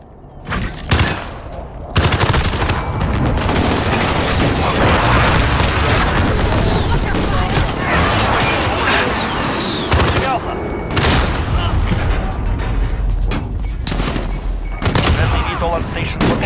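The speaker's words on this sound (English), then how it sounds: "Enemy precision airstrike." Call of Duty precision airstrike explosions and gunfire on the Shipment map, heavy booms and rapid bursts of shots filling the whole stretch loudly, with brief lulls between barrages.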